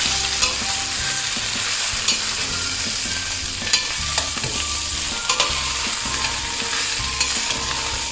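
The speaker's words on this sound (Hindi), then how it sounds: "और अब मैं उसमें मुठिया डाल दूंगी" Gujarati muthiya with sesame seeds frying in a pan, a steady close sizzle with repeated scraping stirs, no voices.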